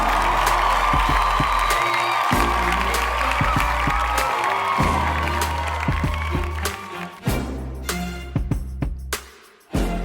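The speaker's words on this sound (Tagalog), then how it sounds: "Isang malakas na palakpak naman dyan!" Applause and cheering from a crowd fill the scene after a cooked chicken pastel is presented. The sound is loud and dense, with thick overlapping claps that fade and break up toward the end.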